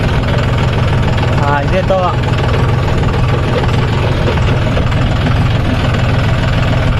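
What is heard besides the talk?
John Deere 5050 D 4WD tractor engine running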